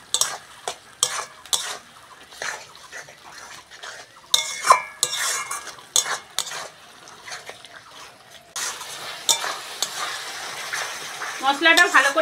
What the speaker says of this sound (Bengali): এবার মশলাটা আমি ভালো করে কষে নেব